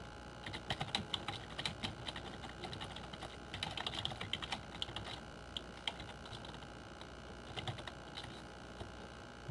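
Rapid typing on a computer keyboard, a steady patter of light key clicks with brief pauses, close and fairly quiet.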